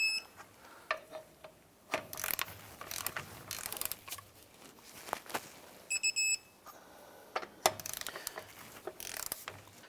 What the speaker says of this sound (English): I'm going to go ahead and torque the lug nuts down to 103 foot-pounds